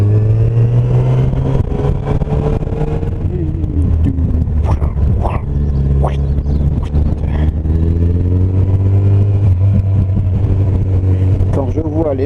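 An FJR 1300 motorcycle engine accelerating on a ride near Sainte Croix du Mont, a loud, steady droning roar whose pitch rises and falls through gear changes.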